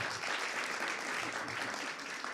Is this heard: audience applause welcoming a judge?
yes